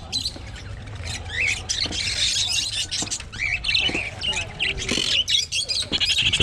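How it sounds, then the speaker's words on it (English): A breeding pair of blue budgies at a local market stall chirp and squawk in busy, overlapping bursts, close and lively, with soft background murmur around them. "Budgies."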